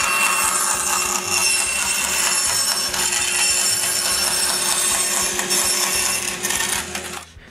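A sheet of plywood is cut to shape for a belt guard on a shop-built wooden jointer, a loud steady rasping cut running continuously and close before stopping abruptly near the end.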